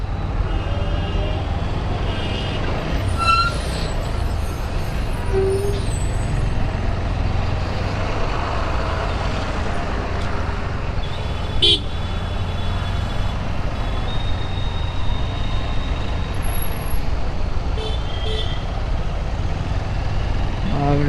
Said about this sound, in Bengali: জ্যাম মানে রাস্তার কোথাও দেখা যাচ্ছে না শুধু গাড়িই গাড়ি